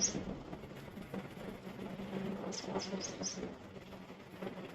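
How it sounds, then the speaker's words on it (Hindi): Small birds chirp in a village in the morning, a quick run of four or five thin high tweets midway plus an isolated one at the start, faint over low background rumble. "देखिए चिड़िया भी बोल रही है,"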